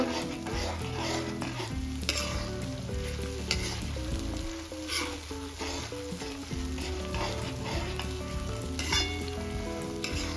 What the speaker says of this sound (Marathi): आता आपल्याला ही पेस्ट छान परतून घ्यायची आहे